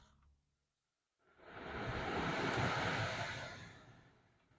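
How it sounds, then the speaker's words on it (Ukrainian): Climate-control air blowing inside a NETA U500 crossover, a steady broadband whoosh that swells in after a moment of near silence, holds and then eases off, close to the microphone with no voices. "повітря дує то в мою сторону, то в пасажирську сторону"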